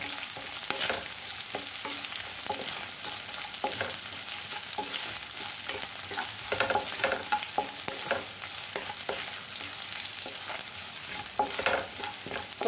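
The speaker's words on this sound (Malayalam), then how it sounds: "ഇഞ്ചിയുടെയും വെളുത്തുള്ളിയുടെയും പച്ചമണം ഒന്ന് മാറുന്നവരെ ഒന്ന് വഴറ്റിയെടുക്കാം" Ginger and garlic strips sautéing in hot oil for a Kerala gooseberry pickle, giving a dense continuous sizzle and crackle with frequent light stirring clicks, close and even throughout, no speech.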